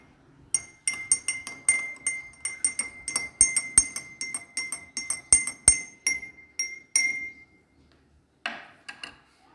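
A spoon stirs milk into water in a drinking glass, producing a rapid run of bright clinks against the glass for several seconds, then a pause and a few final taps.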